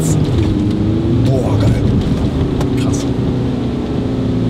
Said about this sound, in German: Jetzt gebe ich wieder Vollgas.